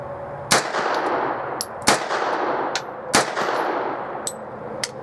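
An MP5 submachine gun fires single semi-automatic shots outdoors, several sharp loud cracks spaced irregularly, each followed by a brief ringing tail and clinks of ejected brass.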